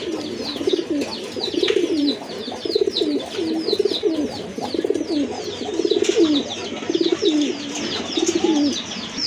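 Kagoji pigeons with pink beaks coo in repeated rhythmic bursts, close and steady, while higher chirps from other birds flutter above them throughout.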